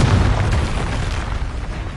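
A Confringo fire spell bursting in Hogwarts Legacy, a loud, close, deep boom with a rumbling tail that lasts the whole moment, with no voices.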